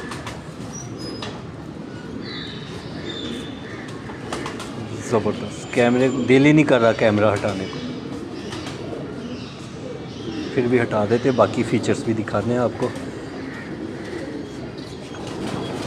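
Pigeons on a Karachi rooftop coo softly in the background while someone talks enthusiastically throughout.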